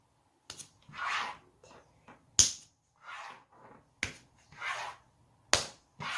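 A child claps hands in a quiet room, with sharp, separate claps spaced over several seconds between soft adult speech.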